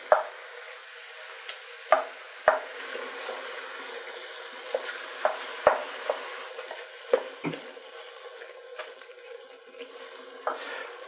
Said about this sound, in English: We're just going to cook this, and I'm going to stir it and continue to break it up.